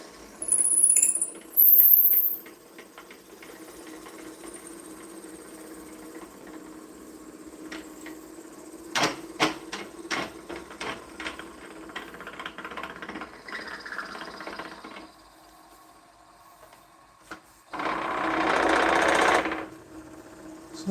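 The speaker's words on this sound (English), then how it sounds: "And re-drill it, come in from this side, let it ream itself out a little bit." A drill bores back into a hole in a pen blank and reams it wider, producing bursts of whining, rattling motor noise with stops and restarts. Loud machine runs come at the start and near the end.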